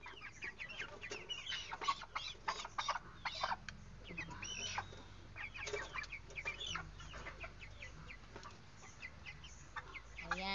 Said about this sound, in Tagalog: Ang hirap lalo't nagwawala yung manok, ang hirap ang hirap kiluhin.